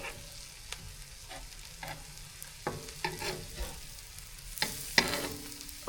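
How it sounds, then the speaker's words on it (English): Fish for tacos sizzling steadily in a pan, with scraping spatula strokes and louder clatters as the pieces are flipped, close up with no talk. "I'm going to take my spatula and I'm going to flip them."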